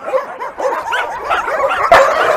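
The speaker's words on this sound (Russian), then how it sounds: "Хорошая собачка." Several dogs close by give a rapid run of high, excited yips and barks mixed with whimpering, loud and overlapping throughout.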